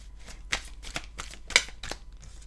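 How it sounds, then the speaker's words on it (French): Tarot cards riffle and snap in a series of sharp, crisp bursts as they are shuffled and drawn for a three-card spread, close by and without speech. "on va prendre 3 cartes de la triade"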